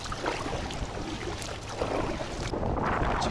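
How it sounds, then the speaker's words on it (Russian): Strong squall wind roars and gusts across open water during a kayak trip, a broad rushing noise that swells and stays loud throughout, with no voices. "Чуть ветер поднялся, вон шквал."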